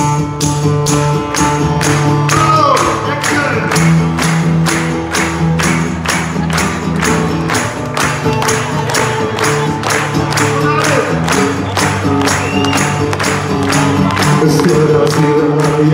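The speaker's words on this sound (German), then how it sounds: "Und da klatschen wir mal alle mit. Immer auf den Tambourinschlag, okay?" An audience at a live concert at Pier 2 in Bremen claps along in steady unison to a tambourine beat, evenly spaced claps running throughout over the band's music with singing.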